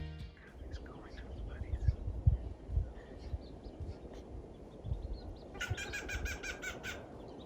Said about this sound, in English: but it's a squirrel making that noise